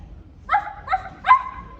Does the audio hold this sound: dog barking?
yes